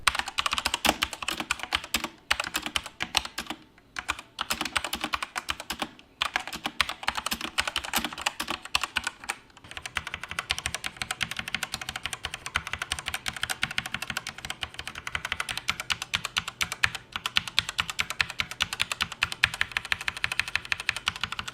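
Rapid typing on the keys of a Redragon K596 Vishnu keyboard, close up, with dense clacking strokes in fast bursts, a few brief pauses, and no talking.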